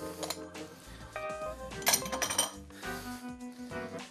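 A spoon scrapes and clinks against a pot while wild boar daube with black olives, pearl onions and orange peel is stirred, giving close, irregular metallic taps and rattles with no talk.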